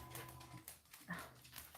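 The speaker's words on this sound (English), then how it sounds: "Sorry, my dog's being a little antsy here." A restless dog whimpers and whines in short, faint, high bursts, close by in a quiet indoor room where a 3D printer is being set up.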